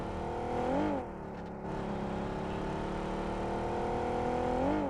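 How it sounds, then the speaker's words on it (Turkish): A steady, droning car engine from PUBG Mobile hums continuously, its pitch rising briefly a couple of times as if revving, with no talking. "Arabada öyle bir ses çıkıyor ki"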